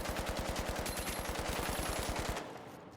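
Rapid automatic gunfire from a first-person shooter game, a steady burst of evenly spaced shots for over two seconds that cuts off abruptly, loud and close with no talking.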